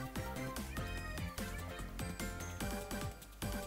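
A cat meows in the video game Saga Emerald Beyond, several short, fairly quiet calls with descending pitch, repeated in a steady rhythm over a tonal game background.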